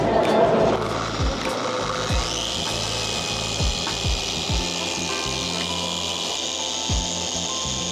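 A machine polisher works clear coat above the headlight of a Suzuki Swift Sport, removing wash scratches: a steady whirring hum with a fluctuating rubbing texture, close and continuous throughout.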